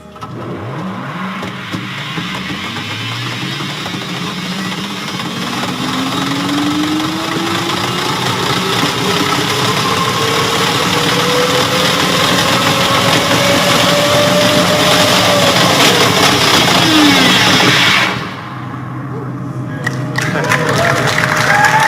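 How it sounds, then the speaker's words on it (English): A Hyperloop test pod rides through a tunnel, giving a rising, steadily climbing whine over a broad rushing roar that builds and then drops off abruptly near the end. "that was a video of a test pod ride that we did in the Hyperloop"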